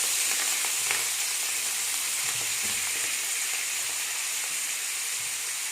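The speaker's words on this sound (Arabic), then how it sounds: "نحمر لي شامبينيون تاعي" Mushrooms frying in margarine and oil, a dense, continuous sizzle heard up close and fairly loud, with faint stirring knocks underneath and no voices.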